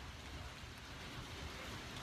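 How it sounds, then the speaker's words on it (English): Steady rain falling on a roof during a Midwest storm, a dense, even hiss of drops with no break, moderately quiet and without any talking. "If you can hear the rain that's on the roof, like that."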